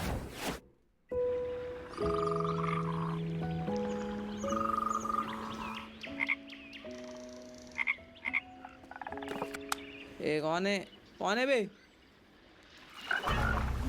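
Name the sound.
frog croaking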